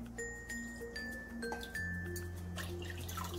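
Water trickles and drips into a clay pot, 1.5 cups for masala chai, with faint ringing tones and small splashes. The sound is quiet and close, and no one speaks.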